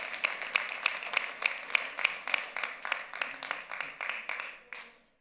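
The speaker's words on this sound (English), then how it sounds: "Clap on that." A church congregation clapping together at a Resurrection Sunday service: about fifteen steady, evenly spaced claps in a clear rhythm, moderately loud, tapering off near the end.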